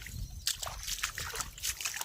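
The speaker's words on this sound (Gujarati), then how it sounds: "પાણી ચાલુ જ છે" Water running through a field irrigation channel, a near, continuous sloshing and trickling with small splashes and gurgles in uneven bursts.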